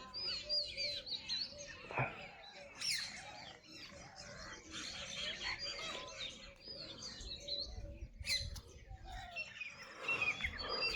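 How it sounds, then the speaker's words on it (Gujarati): Birds chirp and call around a village in the morning, with several overlapping tweets and trills near and far, and other faint background sounds throughout. "પક્ષીઓ"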